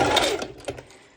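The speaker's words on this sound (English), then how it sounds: "I'm actually doing just a normal straight stitch" A sewing machine sews a straight stitch on a sporty racerback top, making a brief, close burst of mechanical whirring and clicking that fades after about half a second into a few faint taps.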